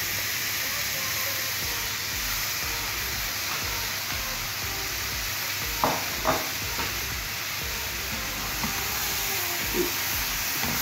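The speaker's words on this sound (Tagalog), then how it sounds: "Igigisa lang natin yung ating beef." Beef sautés in a pan for a mechado stew, giving a steady hiss and sizzle throughout with a few brief stirring clatters near the middle.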